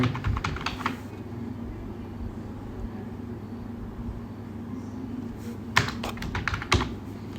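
A name is typed into an online visa form on a computer keyboard. Close, crisp bursts of rapid keystrokes come at the start and again near the end, separated by a quiet stretch of low room hum.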